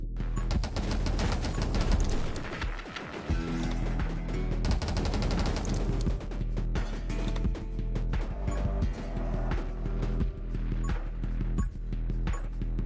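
Rapid, continuous gunfire in the game 20 Minutes Till Dawn, a dense stream of quick shots that never lets up, layered with hits and game effects throughout.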